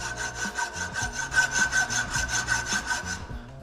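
A piece of metal hand-sawn in a workshop while building a street-legal formula car, a loud, steady rhythm of about a dozen rasping back-and-forth strokes close up, with no talk.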